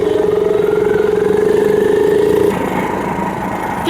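A mini bike engine runs steadily and loud up close for about two and a half seconds while riding, then the tone drops and shifts as the rider eases off, with wind noise over the top.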